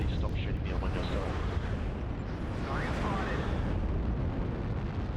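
Heavy explosions and weapon fire rumble in MechWarrior Online, a dense, roaring low-end barrage of booms and blasts running continuously, with a player speaking over the combat.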